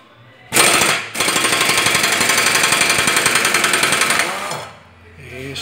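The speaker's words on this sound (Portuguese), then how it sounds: "A polia é importante, mais fácil, soltar com a parafusadeira pneumática" Pneumatic impact wrench loosening the pulley bolt on a Corsa MPFI engine during a timing belt and water pump job, a short burst then a loud sustained rapid hammering rattle for about three seconds, close up.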